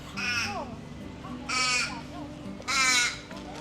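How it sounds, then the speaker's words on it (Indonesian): Crows caw three times in an open area on Rottnest Island, Australia, each harsh drawn-out call evenly spaced and fairly close, with the last the loudest, over faint background noise. "Banyak burung gagak juga di sini"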